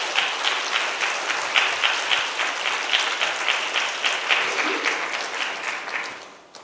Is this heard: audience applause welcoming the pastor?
yes